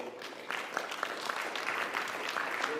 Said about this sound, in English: I really want you to give our dignitaries a round of applause